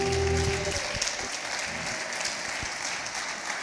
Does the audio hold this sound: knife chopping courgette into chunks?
no